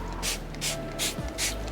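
A pressure washer sprays water onto a matte car's wheel in four quick, regular hissing bursts, each a short sharp spray close by with brief pauses in between.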